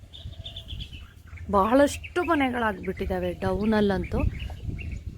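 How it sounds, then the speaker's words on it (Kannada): Birds chirp faintly outdoors, with a thin high call near the start, and then a person talks over them. "ನಾದನ ಕೇಳ್ತಾ ಇದ್ದೀರಲ್ವಾ ಹಕ್ಕಿ ನಾದ ಇಲ್ಲಂತೂ ತುಂಬ ಹಕ್ಕಿಗಳು"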